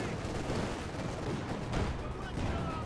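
A 6-pounder anti-tank gun fires in the Company of Heroes 2 battle game amid dense, continuous gunfire and explosions, a rumbling wash of combat with a heavier boom near the middle, while a voice talks over it.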